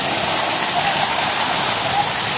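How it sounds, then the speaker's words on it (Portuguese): Water rushes steadily down a creek cleared of leaves, a loud, even, close-up wash of flowing sound with no pauses. "Olha como que a água correu bom."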